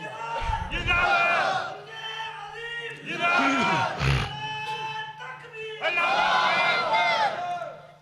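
A crowd at a religious gathering answers a preacher with a loud chanted slogan, three surging waves of many voices shouting together, each separated by a single voice calling out.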